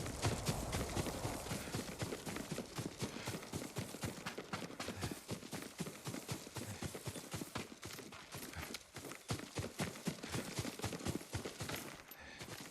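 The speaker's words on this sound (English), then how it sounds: "Yuriko's horse. She can't be far." Horse hooves gallop in a rapid, steady clip-clop rhythm throughout in the Ghost of Tsushima game, loud and close, with a brief lull near the end.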